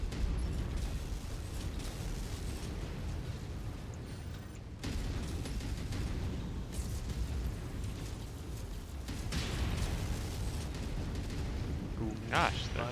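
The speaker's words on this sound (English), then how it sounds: "Oh, crap, they've got artillery now." Enemy artillery in the mech combat game Mechwarrior 5 rumbles through a dense, continuous wash of explosions and mechanical noise, with a louder burst near the end, while players talk over it.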